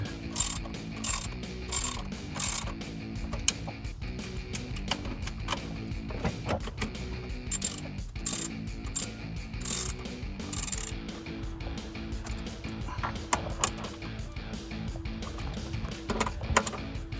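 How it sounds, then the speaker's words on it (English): A ratchet driver clicks in quick bursts while tightening 10 mm bolts on a Toyota Tacoma throttle body spacer, the pawl chatter close and repeated with short pauses between strokes. "that's using a 10 millimeter bolt and a 10 millimeter driver. You're gonna wanna tighten these in a crisscross"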